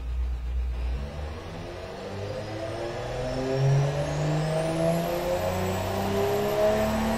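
Unleaded turbo engine of a car in the Automation car tycoon game, revving steadily with a rising, whirring tone over several seconds, heard alone.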